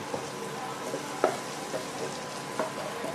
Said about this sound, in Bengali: এবার বেশ কিছুক্ষণ ধরে আমি মশলাটা কষিয়ে নেব যতক্ষণ না এর থেকে তেল বেরিয়ে আসছে